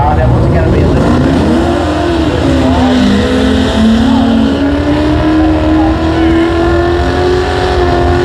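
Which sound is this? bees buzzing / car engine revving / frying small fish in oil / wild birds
car engine revving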